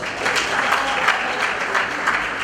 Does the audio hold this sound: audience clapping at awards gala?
yes